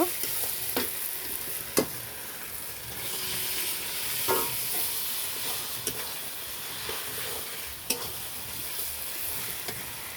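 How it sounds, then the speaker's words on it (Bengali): Meat tipped into a wok of fried spice masala sizzles steadily, a broad hissing fry with occasional sharp spatula clicks and scrapes against the pan, heard alone without talk. "এইবার আমি মাংসটা ঢেলে দিব।"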